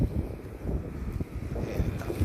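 Strong wind roars across the microphone at a seaside fishing spot in cold, wavy weather, a steady, loud, buffeting rumble with no one speaking.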